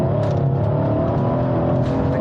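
Mercedes C63 with a JB4 tune accelerating hard, a loud, dense engine roar close up from inside the cabin that holds steady throughout with no talking.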